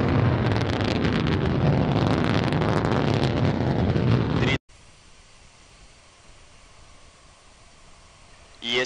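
Heavy, wind-like roar of rocket engines during the Luna 25 launch, loud and steady for several seconds before cutting off abruptly to near quiet, with a brief surge at the very end.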